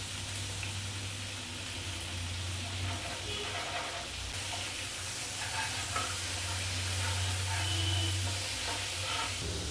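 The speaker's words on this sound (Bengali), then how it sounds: "প্রচণ্ড ছিটছে বলে এখানে আমি সামান্য একটু জল দিয়ে দেব, তাহলে মশলাটা ছিটে আসা বন্ধ হয়ে যাবে।" Masala paste with ghee frying in a pan for a Bengali fish curry, a continuous hissing sizzle with crackles and spatters and occasional stirring scrapes, close and fairly quiet.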